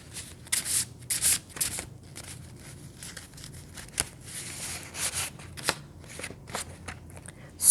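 Handmade cards being shuffled close up, with repeated crisp riffling bursts and soft papery flicks separated by brief pauses, fairly quiet and with no talking.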